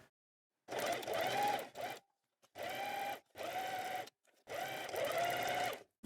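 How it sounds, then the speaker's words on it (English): A sewing machine stitches a lapped seam along the top edge of the fabric. It runs in three longer whirring bursts and a few short ones, each separated by silence, close and clear. "We then stitch along the line on the top as close to the edge as possible."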